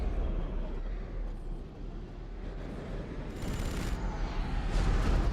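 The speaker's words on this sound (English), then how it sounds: "God, those chain guns are terrifying." Chain guns firing in X4: Star Wars Interworlds capital-ship combat, a dense continuous rattling roar with a deep rumbling bed, swelling louder toward the end.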